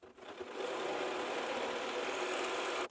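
A serger runs steadily, stitching rows of fabric together in one fast, continuous mechanical whir that starts after a brief moment and holds an even level until it stops.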